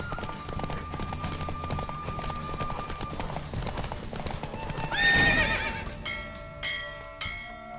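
Galloping hooves drum in a quick, steady clip-clop as a horse races in The Witcher 3, followed by a loud whinny, then scattered ringing bell-like chimes as the run winds down.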